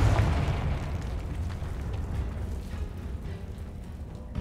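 A Confringo fire spell explodes in Hogwarts Legacy, a loud boom with a heavy rumbling tail that fades gradually over several seconds.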